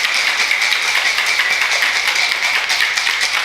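A cocktail shaker packed with ice is shaken hard, giving a loud, fast, continuous rattle of ice knocking inside the metal tin, close up and without talk.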